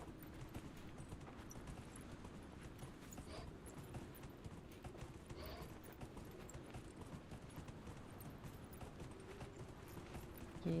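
Horse hooves clip-clopping steadily at a gallop in the fantasy video game Dragon Age: Inquisition, a continuous rhythmic patter over a constant ambient bed, with no talk.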